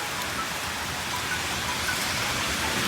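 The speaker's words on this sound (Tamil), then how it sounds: "மழை ஸ்பீடு ஏறிட்டே இருக்குது." Heavy cyclone rain from Cyclone Fengal pours down in Chennai, a dense, steady roaring hiss of downpour with no pauses, loud and close throughout.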